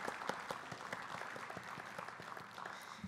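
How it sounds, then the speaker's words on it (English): Steady applause from a conference audience after a regional workforce panel discussion, many hands clapping continuously at a faint, distant level. "Can we get another round of applause for the panel?"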